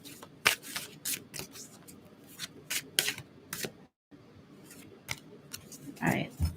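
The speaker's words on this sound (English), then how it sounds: "let me shuffle a little more" Tarot cards being shuffled close up in quick, irregular riffles and snaps, with brief pauses and a moment of quiet talk near the end.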